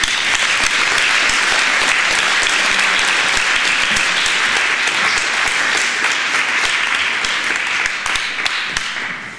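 Loud, sustained audience applause at a scholarly symposium, dense clapping from a large crowd filling the room steadily for about nine seconds before starting to fade at the very end.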